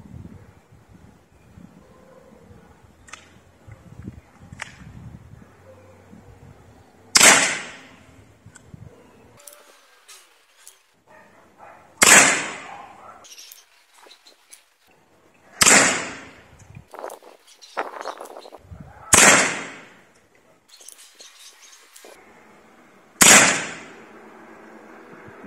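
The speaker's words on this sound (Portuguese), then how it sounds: "Não sei se vai sair esse disparo, hein? Tá com pouca pressão." Several sharp, loud PCP air rifle shots fired one at a time during a stress test in water and mud, spaced a few seconds apart, with quiet rustling and faint wind between them.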